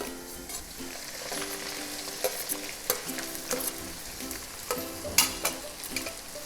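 Finely chopped garlic and small pieces of ginger sizzle steadily in a hot pan while being stirred, with soft scraping and clinking from the spoon over a continuous frying hiss.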